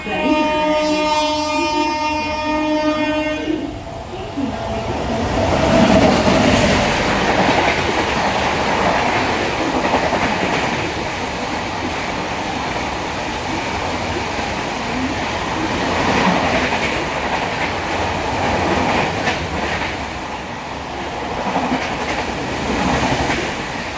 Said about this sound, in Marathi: आता ट्रेनचा टाईम झाला, आली पण.